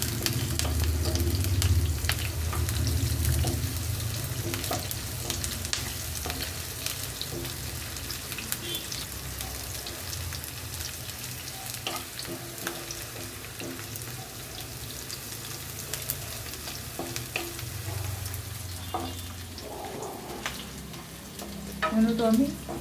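Sliced onions fry in a pan until reddish, giving a soft, steady sizzle that carries on throughout with faint kitchen clatter.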